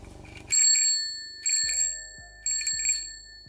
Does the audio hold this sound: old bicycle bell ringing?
yes